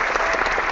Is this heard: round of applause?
yes